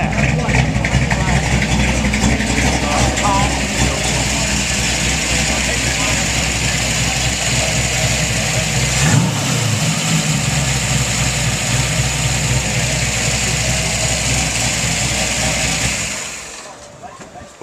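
A 1962 Ford Galaxie 500 XL V8 idles steadily and loudly with a deep, rumbling burble for most of the stretch, people talking over it, before the engine sound fades away near the end.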